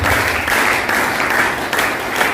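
Loud, steady applause from a crowd at a shop opening event fills the moment, dense clapping sustained throughout without talk.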